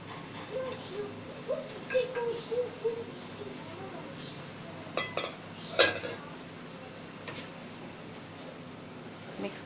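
Mutton is stirred into masala in a cooking pot, with faint scraping and light clinks of the spoon against the pot coming in short irregular strokes over a quiet background.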